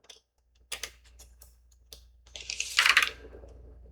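Scissors cutting vellum envelope paper to trim away a folded white portion, giving a few close, crisp snips and rustles, with a louder longer paper-slicing sweep near the end; no voices.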